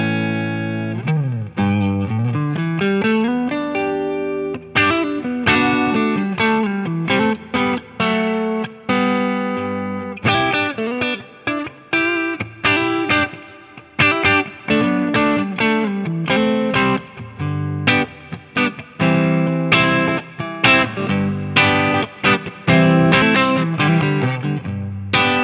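Electric guitar played through a Neunaber Immerse reverb pedal set for a chorus-like shimmer, with strummed chords and picked notes in a busy, continuous passage, each phrase washing into a lush, wavering tail.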